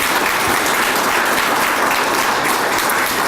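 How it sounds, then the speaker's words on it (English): A crowd at a veterans' event applauds in a loud, dense, continuous burst of clapping that fills the whole stretch, with no speech above it. "Let's give them all a big round of applause."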